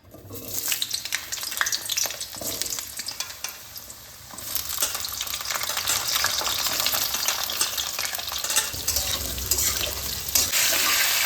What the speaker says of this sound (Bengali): এবার এই একই তেলে আমি আলুগুলোকে ভেজে নিচ্ছি